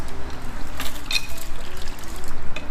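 Water trickling and dripping off a HOBO MX801 water-quality data logger as it is pulled up out of the water toward shore, a close, continuous splashy wash with a few brighter drips.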